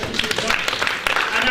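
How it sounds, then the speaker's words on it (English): A short burst of audience applause for a presenter at a talk, with scattered hand claps mixed with voices and a cheer, lasting barely a second and a half. "Round of applause for Cindy."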